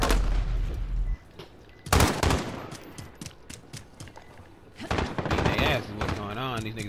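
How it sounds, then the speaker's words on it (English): Gunfire and grenade blasts in the video game Call of Duty: Modern Warfare come in bursts of rapid shots and sharp booms, loud and close, interleaved with a person talking excitedly over the game audio. "I'm getting blown up by random grenades now"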